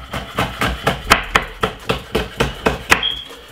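A knife chops through a yellow pepper on a cutting board, making about a dozen firm, evenly spaced thuds at a steady rhythm, close and clear with no talking.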